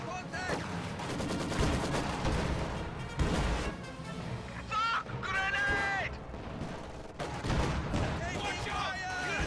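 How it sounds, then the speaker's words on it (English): Grenades go off amid heavy gunfire in a multiplayer video game battle, with repeated loud bangs and rattling shots running on without a break and a voice talking underneath. "Two grenades tossed."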